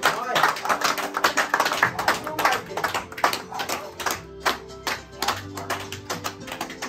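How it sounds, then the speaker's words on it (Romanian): An audience claps for a grandson home from the army as he surprises his grandparents. The clapping is a steady, moderately loud patter of many hands, with a low tonal hum and some voices underneath. "încă o dată multe aplauze și dumneavoastră toți aplaudați."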